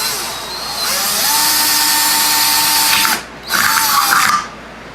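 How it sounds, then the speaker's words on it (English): A power drill bores a 1/8-inch pilot hole with a loud, close, high whine that runs steadily for about three seconds, cuts out briefly, then revs once more before stopping. "now I've got a little bitty pilot hole. So I take out the 1/8."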